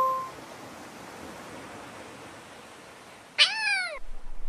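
Quiet hiss for a few seconds, then a single clear cat meow rises and falls near the end.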